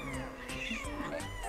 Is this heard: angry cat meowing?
yes